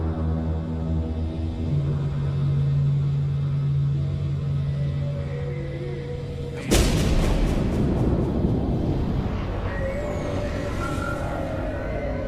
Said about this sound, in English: there was what we now understand to be the priming of the sonar weapon